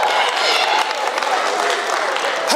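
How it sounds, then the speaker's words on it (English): Audience at the Denzel Washington School of the Arts applauding a young girl called to the front, a dense steady clatter of clapping with some crowd noise mixed in, lasting a couple of seconds. "Give her a round of applause."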